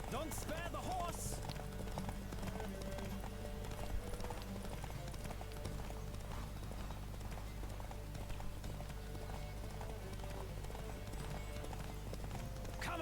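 Horse galloping in a race in The Witcher 3, steady drumming hoofbeats under a constant low rumble and game music, with a voice shouting at times over the run.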